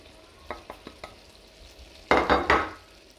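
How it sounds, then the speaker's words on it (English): A utensil stirs cauliflower and potato curry with green chilies, coriander and garam masala in a pan: a few light taps, then a cluster of loud, close scraping strokes near the end. "Give it a good mix."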